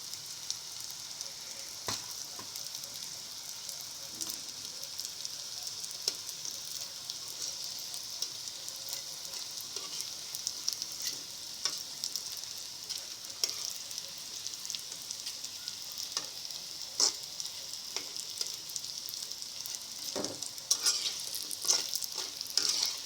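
Leftover roti pieces frying into chips in hot oil, a steady dense crackling sizzle that runs throughout at moderate level, with scattered sharper pops growing a little busier toward the end.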